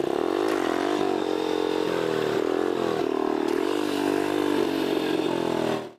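A motorcycle engine held at steady revs during a wheelie, droning loud and close with slight pitch wavers as the throttle shifts, then cutting off abruptly at the end.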